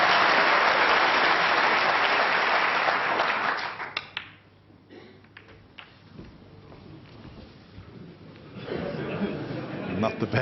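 Snooker crowd at a world championship match applauding a potted double: loud sustained clapping for about four seconds fades to quiet murmurs, then a fresh burst of applause swells near the end.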